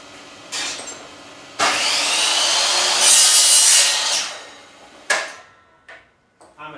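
A saw blade not designed for plastic cuts PVC in one loud, rough grinding burst lasting a few seconds, with a shorter cut just before it and a few scraping knocks after.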